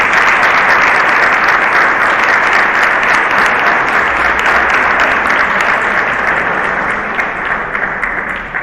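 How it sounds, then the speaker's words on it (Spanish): Loud, sustained applause from an audience welcoming speaker Padre Horacio Bojorge to a talk on the capital vices, steady dense clapping filling the whole stretch and tapering slightly at the end. "Recibimos entonces con un fuerte aplauso al Padre Horacio Bajón."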